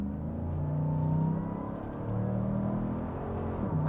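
A car engine revs up under a short squirt of throttle, heard from inside the car as a steady, close droning rumble that swells, eases and climbs again over a few seconds, with no talking.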